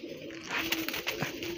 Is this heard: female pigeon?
yes